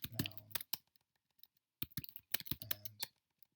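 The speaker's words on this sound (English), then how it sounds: "You can see as I'm typing quick that I make little errors" Quick typing on a computer keyboard while correcting written errors: bursts of close, crisp key clicks in two clusters separated by a short pause, with no talking.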